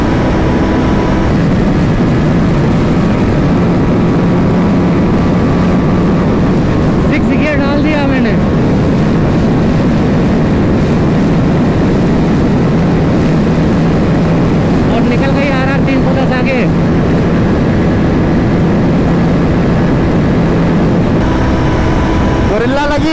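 A Royal Enfield Guerrilla 450 and an Apache RR310 motorcycle drag racing, a loud, continuous engine roar with rising revs through gear changes, heard at close range under excited commentary.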